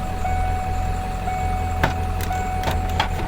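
The engine of a 1997 Ford F-350 pickup runs loud and steady at close range, making a continuous drone with a few short sharp ticks and knocks near the end. No one talks.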